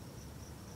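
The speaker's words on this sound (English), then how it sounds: "But the crickets are everywhere" Crickets chirp steadily at night in a quiet neighbourhood, a faint continuous high trill sitting over low background hum, with no voices.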